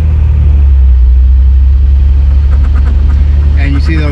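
A 1969 MGC GT idles with a loud, steady low rumble as the clutch is let out slowly and the car starts to pull away, the engine note rising slightly near the end.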